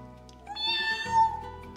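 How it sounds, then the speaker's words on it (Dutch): A cat meows once, a clear drawn-out rising and falling call heard close by, with a low background rumble at a Paris riverside setting. "Kijk, die poes. Ah ja, die poes zat daarop."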